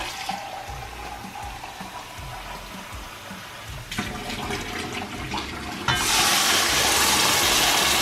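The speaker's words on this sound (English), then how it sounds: "And then we're gonna add 4 cups of water, hot water." Hot water pours from a tap or kettle into a pot of rice as it is cooked, a steady splashing wash that grows louder and brighter near the end.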